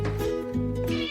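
A lurking cat meows loudly and close up, two drawn-out, wavering calls in quick succession with no talk over them.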